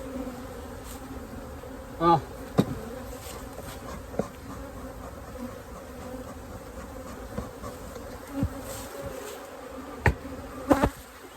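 Honey bees hum in a continuous close drone around an open beehive outdoors, with a few brief knocks and clicks from handling the hive scattered through the buzzing.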